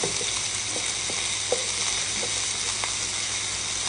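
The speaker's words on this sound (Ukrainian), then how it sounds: "Коли вже наша маленька ріпася вже почти поджарила, мечемо туди цибулю." Onion frying in a pan together with turnip that has almost finished browning, giving a steady close sizzle with a few soft clicks of stirring.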